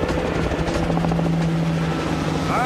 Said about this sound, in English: All right, helicopters are coming in.